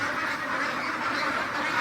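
A crowded pen of 40-day-old hybrid labio ducks, about 2 kg each, quacks as a loud, dense and continuous chorus with no pauses.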